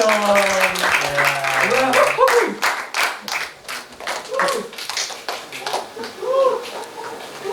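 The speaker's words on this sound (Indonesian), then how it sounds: "Boleh tepuk tangannya?" Audience clapping on a talk show stage as a guest is welcomed, uneven sharp claps and taps mixed with voices and chatter over the top.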